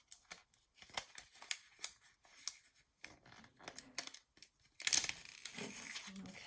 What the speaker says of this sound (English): you can cut these out into little like fussy cuts or whatever you want it to be